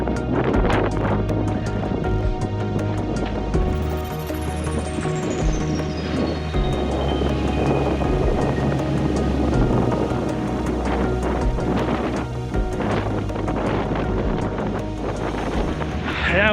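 Gusty wind buffeting on the Horsetooth Rock Trail single track, a loud, roaring rush that swells and eases continuously with no talking.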